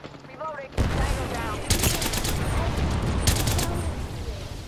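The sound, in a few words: suppressive gunfire in Apex Legends video game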